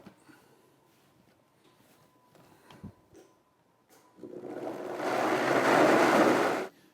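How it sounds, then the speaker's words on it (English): A kitchen blender whirs up key lime zest and juice, starting after a few seconds of quiet room noise and running loud and steady for about two seconds before cutting off. "And now that goes in the blender."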